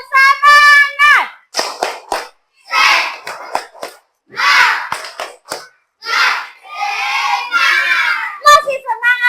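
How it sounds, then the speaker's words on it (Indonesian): Children chant the tepuk semangat clapping routine in a classroom, with loud sung and shouted voices and sharp rhythmic handclaps in short bursts. "Tepuk semangat."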